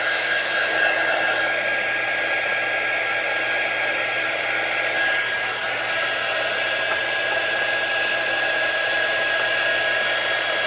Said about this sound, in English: I guess I could use my little quick dry tool.